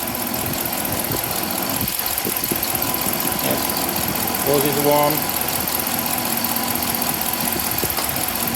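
Jeep Grand Cherokee HEMI V8 idling at full temperature with its cooling fan running, a steady engine hum and fan whoosh, with a person briefly speaking over it.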